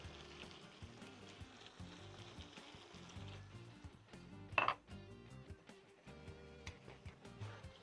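Marinated salmon fries in a pan with a steady, quiet sizzle and crackle, broken midway by a brief sharper clatter, heard close and without talk.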